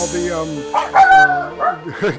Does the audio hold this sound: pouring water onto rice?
no